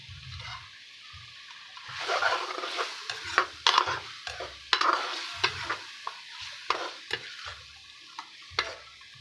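Chicken karahi sizzles in ghee in a wok-style pan while a spatula stirs and scrapes it, giving a crackling fry punctuated by repeated, fairly close scraping and knocking strokes at an uneven pace.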